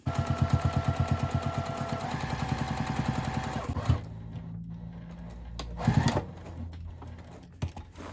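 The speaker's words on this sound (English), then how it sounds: "fold this flap down, and top stitch across the top" A sewing machine top stitches across a folded fabric flap with a rapid, even mechanical chatter for a few seconds, then stops, leaving soft handling clicks and bumps.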